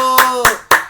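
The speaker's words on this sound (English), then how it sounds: "Give yourself a round of applause" Three or four sharp, close handclaps in a quick, uneven rhythm, loud and dry, as a lone person claps rather than a full audience.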